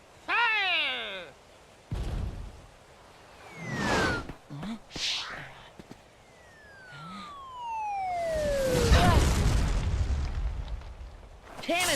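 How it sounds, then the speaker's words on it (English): Cannon fire in a Kingdom Hearts: Birth By Sleep cutscene, loud booming bursts scattered over about twelve seconds, mixed with whistling sweeps, animal-like cries and a swelling roar, with speech-like voices in between. "Cannon fire? Where's it coming from?"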